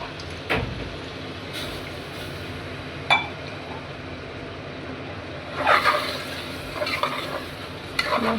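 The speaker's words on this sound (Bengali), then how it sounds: "মশলাটা ভালোভাবে কষিয়ে নিচ্ছি এখানে।" Masala spices are sautéed in a pan with a constant low sizzle, broken by a few sharp clinks and louder scraping stirs of the spoon against the metal.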